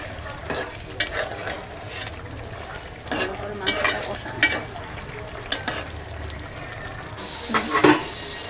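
Chicken curry (jhal bhuna) with green chillies cooks in a pan: a low, steady simmer-sizzle broken by intermittent scraping and clinking spoon strokes, close by, with no speech.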